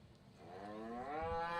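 A Simmental cow lows once in a show ring at the Ekka, a single drawn-out moo that rises in pitch and swells gradually, heard alone at a moderate distance.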